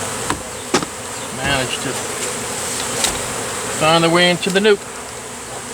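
Honeybees fly around a catch box during a late-winter bee removal, a close, steady buzzing swarm with louder passes as individual bees zip near, while someone talks over them.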